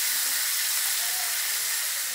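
Fish sizzling as it fries in a pot over an open fire, a steady close hiss of hot oil with no break and no voices.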